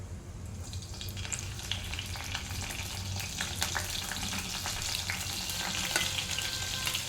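Spices and green chillies crackle and sizzle in hot oil in a pan for tomato rasam, a steady dense fry with scattered pops, fairly quiet and close, with no voice over it.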